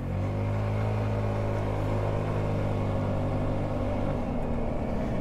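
A 2020 Hammerhead LE-150 nine-horsepower vehicle accelerates from a stop, giving a steady, loud droning engine whine that holds its pitch and then shifts slightly near the end, with no voices.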